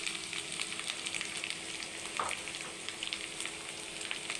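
Garlic paste with bay leaf and chili powder sizzles steadily in hot oil while a katla fish curry is cooked. The crackle is soft and continuous, with a brief stir partway through and no voices.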